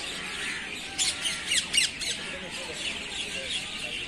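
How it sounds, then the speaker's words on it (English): Free parrots in a tree squawk in a short burst of three or four harsh, raspy calls, fairly close, over soft outdoor background noise. "There is two parrots actually. There is one and another one is on that side of the tree."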